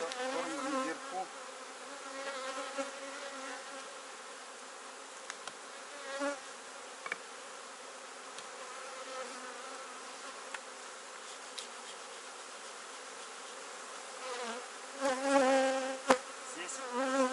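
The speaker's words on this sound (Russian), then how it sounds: "Посередине видно, что пчелки выходят" Honeybees hum in a dense, continuous drone over an open hive as frames of honey and brood are inspected, with occasional louder passes of individual bees near the listener.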